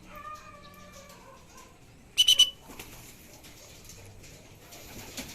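Soft pigeon coos and whistly calls, then a brief burst of fluttering wings as a racing pigeon lands at its loft after a 125 km training flight, followed by quiet rustling.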